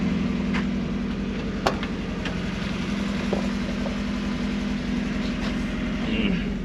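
A newly bought used car's engine idles slightly high, a steady low rumble with a continuous throb that holds evenly throughout, close and alone with no talk.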